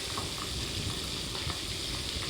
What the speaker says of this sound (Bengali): এবার তেলের মধ্যে দেখুন যেই মাছগুলো দিয়েছি কেমন ফাটতে শুরু করেছে